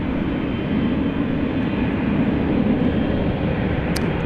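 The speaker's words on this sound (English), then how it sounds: "MD-11 freighter." A 31-year-old MD-11 freighter aircraft taxiing at DFW Airport at night, a steady broadband engine roar and rumble held at constant loudness, heard from a distance.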